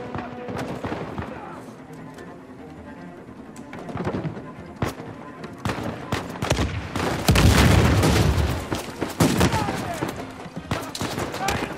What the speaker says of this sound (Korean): 근처에 샷건 소리도 나네